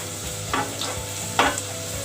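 Onion sautéing in a pan for shakshuka, a steady sizzle broken by two louder scraping stirs, close and alone with no voices.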